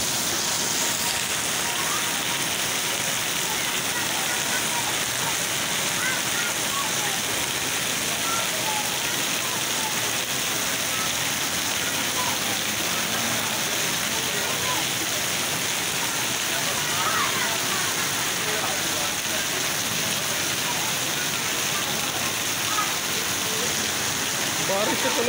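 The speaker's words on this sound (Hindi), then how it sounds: "ये पता तो आपको चल गया होगा कि ये बारिश का पानी है।" Steady, dense rain hiss pouring without a break for the whole stretch, even and moderately loud.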